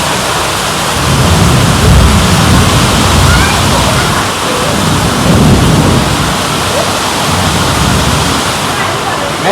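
Heavy rain roars steadily throughout, with deep rumbling swells that sound like thunder rolling beneath the downpour.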